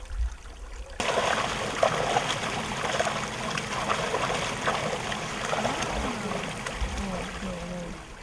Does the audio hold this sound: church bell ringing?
no